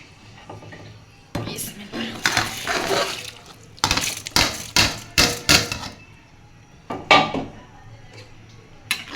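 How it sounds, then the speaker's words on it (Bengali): Dry rice tipped into a pot of half-cooked lentils for khichuri: a series of sharp clattering knocks and scraping spoon-on-pot hits in uneven bursts, close and fairly loud, with quiet gaps between. "অর্ধেক সিদ্ধ হয়ে গেছে ডালটা এখন দিয়ে দিব চালগুলা"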